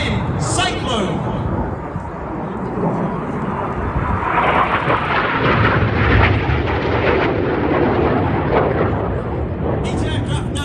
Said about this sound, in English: Each aircraft now pulling up to 5G, once again turning towards each other